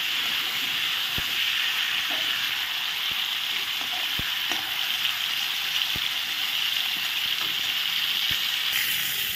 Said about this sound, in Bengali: পটলগুলো এক পাশ ভাজা হয়ে গেছে, আমি আবার আরেক পাশ দিয়ে দিলাম।